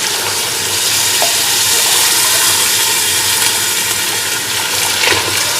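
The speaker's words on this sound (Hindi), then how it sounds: "अब इसमें हम जो यखनी बनाई थी वो डालेंगे।" Yakhni broth poured into a pot of cooked beef for Sindhi beef pulao, giving a loud, steady sizzle with bubbling liquid throughout, close up and with no talk.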